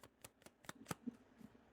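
A tarot deck shuffled by hand, giving a series of soft, crisp card riffles and taps spaced irregularly, faint and close, with no voices.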